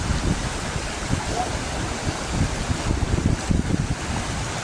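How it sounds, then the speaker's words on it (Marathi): Floodwater of the swollen Sina river rushing over a weir, a loud continuous broadband roar with choppy low surges, close by and gusty with wind buffeting. "इकडं आपली सेना नदीला बघू शकता पूर आलाय बंधाऱ्यांना पाणी चाललंय"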